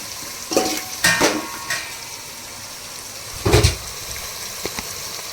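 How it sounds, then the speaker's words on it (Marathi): Tomatoes fry in a pan for prawn biryani, a soft steady sizzle broken by a few sharp scrapes and clinks of a spoon stirring against the pan. "आता आपण त्यामध्ये टोमॅटो टाकतो ग्रेव्ही होण्यासाठी थोडीशी."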